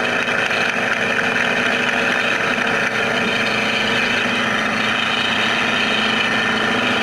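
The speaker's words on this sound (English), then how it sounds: "You can hear the engine in the background." An early Sikorsky helicopter's engine drones steadily during a vertical takeoff. The hum is constant and fairly loud, with a grainy, vibrating texture, and no one speaks over it.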